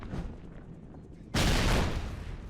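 A grenade blast in the Call of Duty game erupts suddenly partway through as a loud, broad boom with dense gunfire that stays heavy to the end, after a quieter stretch of low rumble.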